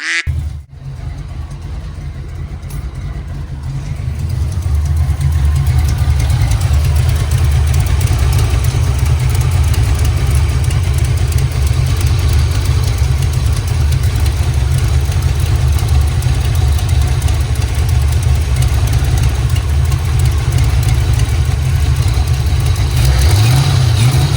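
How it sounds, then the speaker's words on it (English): Car engine fitted with a lumpy cam, idling with a loping, uneven rumble close to the microphone, then held at a higher, louder idle for a steady stretch before it dips again at the end. "Man, she's idling good. Idle it up a little bit."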